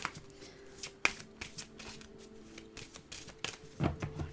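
Karma Angel oracle cards being shuffled by hand close up, a quiet run of soft riffling flicks and slaps with one sharper snap near the start, no talk.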